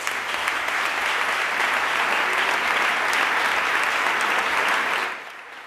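A crowd applauds loudly and steadily for about five seconds at Palma city council as a new mayor takes office, then the clapping drops off sharply near the end.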